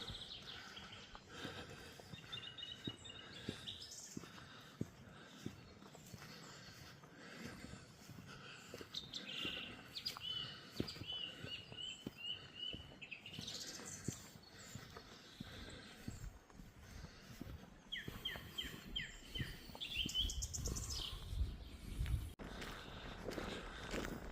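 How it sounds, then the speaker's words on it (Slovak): Songbirds chirp and trill in bursts in a forest meadow on Devínska Kobyla, over steady footsteps on a woodland walking path, with the calls fairly close and recurring throughout. "A vtáčiky spievajú."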